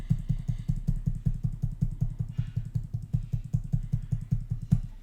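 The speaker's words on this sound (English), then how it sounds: "Move our score lines out of the way with your arrow keys on your keyboard." A computer keyboard's arrow keys are tapped in a rapid, even series of about twenty close clicks, each press distinct and regularly spaced, with no talking.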